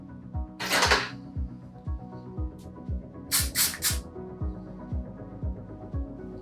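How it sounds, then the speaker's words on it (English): Two short bursts of aerosol spray hiss, one brief and one longer in three quick pulses, over a steady rhythmic thumping music beat. "I'm going to use some hairspray to lock in this nice swoop"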